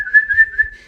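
A person whistles one steady, high-pitched tone that wavers slightly in loudness while imitating a dolphin's whistle, held for just under a second with no other sound.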